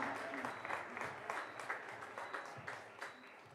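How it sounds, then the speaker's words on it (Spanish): Applause for the singer at a show by a group from El Salto, Jalisco: a crowd claps in a quiet, distant, continuous patter lasting a few seconds. "Un fuerte aplauso para él"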